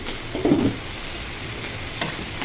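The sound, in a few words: stirring potato and pointed gourd stir-fry in pan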